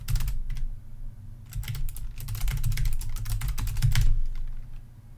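Bursts of rapid typing on a computer keyboard while entering C++ code, with dense clusters of key clicks separated by short pauses, close and fairly loud, no voices.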